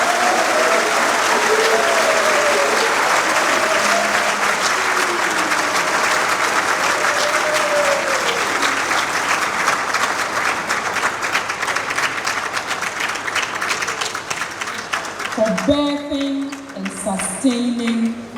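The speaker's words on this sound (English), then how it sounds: "join me to give a special heated applause for the leadership of MIIF and UMaT" An audience at a university speaker series event breaks into loud, sustained applause. A voice is heard over the clapping early on, and the sound thins into scattered claps near the end.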